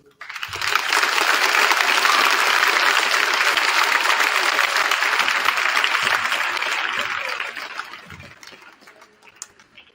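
An audience at a Malden High School Veteran's Day assembly gives a big round of applause, dense clapping that swells quickly, holds loud for several seconds, then thins into a few scattered claps.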